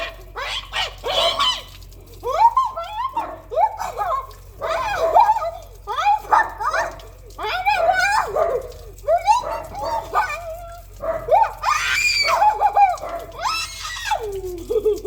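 A dog making repeated whimpering, yelping and barking sounds in uneven bursts, close and loud, with short pauses between outbursts.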